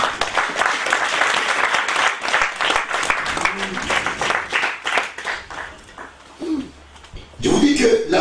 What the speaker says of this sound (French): Applaudissons Jéhovah.